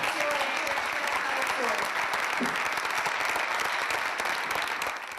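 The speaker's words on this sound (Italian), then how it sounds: "Direi di fare un grande applauso per una bella lezione" Sustained applause from a large audience at a Forza Italia provincial party congress in Treviso, a dense, steady roar of clapping throughout with a brief voice cutting in near the end.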